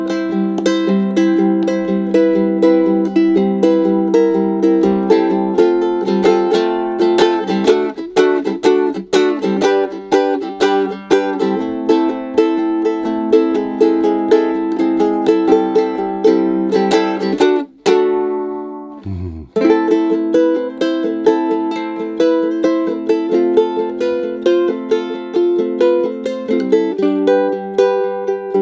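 A Bonanza Millennium tenor ukulele strummed and picked up close, bright plucked chords ringing in steady rhythm, with a brief pause and pitch slide near the middle before the playing resumes.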